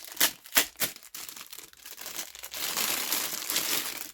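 Glued wooden decorations being torn off by hand, a few sharp cracking snaps at the start, then a continuous close rasping crunch and rustle, with no voices.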